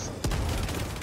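A burst of gunfire crashes out in a robot-shooting video game, one sharp loud blast followed by a dense, rattling wash of shots and explosions.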